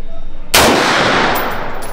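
A burst of gunfire in Vietnam erupts suddenly after a quiet moment, a loud close crack followed by a dense rattling volley of rapid shots that rings on without a break.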